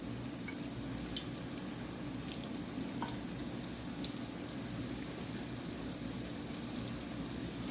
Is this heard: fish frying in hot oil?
yes